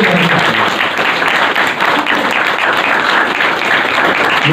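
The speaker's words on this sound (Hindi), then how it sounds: "बेटियां ही ताली क्यों लगा रही हैं" Loud, continuous clapping from a school audience at a writers workshop, a dense wash of hands with no pauses, close and filling the whole clip.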